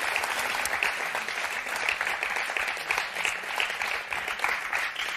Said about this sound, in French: Et on va vous applaudir très fort, Damien.